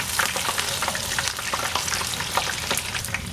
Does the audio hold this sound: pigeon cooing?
no